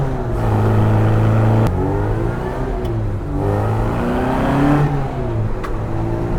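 A MKII Austin Mini Cooper S engine revs while driving, rising and falling through several loud, close pitch sweeps and gear changes, with no talk over it.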